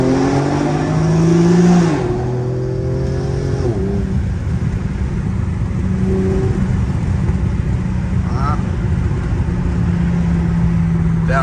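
An Infiniti G37 with a muffler delete accelerates and revs loudly from inside the car, its engine tone climbing and dropping through shifts, with a raspy, continuous roar filling the whole stretch.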